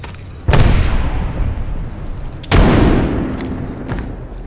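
Two heavy grenade explosions in Apex Legends boom two seconds apart, each a loud thump followed by a rumbling decay.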